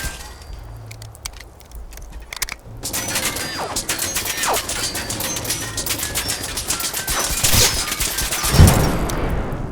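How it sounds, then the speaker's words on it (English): Modded Fallout 4 explosion, impact and ricochet effects, with continuous crackling impacts, clattering debris and thuds building toward a loud blast near the end. "This mod changes explosion, impact and ricochet sounds."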